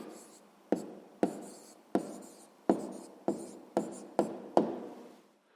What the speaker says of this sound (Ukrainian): Ну що ж, записуємо відповідь.